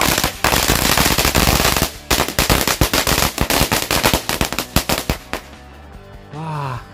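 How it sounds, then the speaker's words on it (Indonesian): A fountain firework crackles and sputters loudly for several seconds in dense bursts during Eid al-Adha celebrations, then dies down to a faint hiss and a distant voice. "lanjut ini kita nyalain mercon air mancur amazing"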